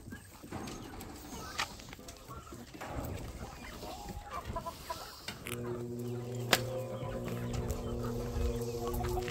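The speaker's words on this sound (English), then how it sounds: "Hybrid, guinea chicken hybrid." A guinea fowl and chicken hybrid on a homestead clucks and calls in repeated short bursts, fairly close, over constant outdoor background noise, with a steady droning hum joining in the second half.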